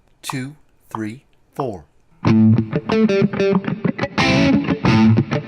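A man counts off briefly, then a loud distorted electric guitar rips through a lick in sixteenth notes, four fast picked notes per beat with chunky accents.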